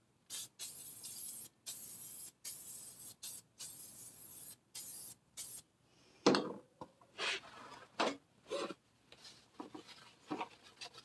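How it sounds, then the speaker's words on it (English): A series of short aerosol spray bursts onto the plastic of a Husqvarna 455 Rancher chainsaw, close and sharp, repeated rhythmically, followed by rubbing and wiping sounds with a few thuds. "So we'll spray some of that on."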